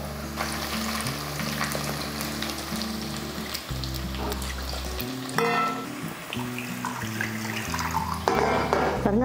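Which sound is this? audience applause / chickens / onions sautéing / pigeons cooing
onions sautéing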